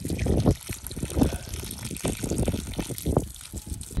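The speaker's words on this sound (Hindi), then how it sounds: "ये देखें कैसे पानी नीचे जा रहा है" Water from watering a potted palm gurgles and trickles down into the soil, a continuous close wet splashing with soft pulses.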